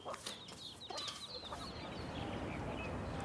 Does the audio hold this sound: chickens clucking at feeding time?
yes